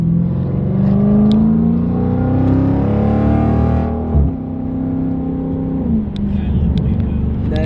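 A Dodge Challenger Scat Pack with a mid muffler and resonator delete revs loudly up close, a deep sustained engine roar that rises and falls with a brief dip partway through, heavy exhaust rumble dominating throughout.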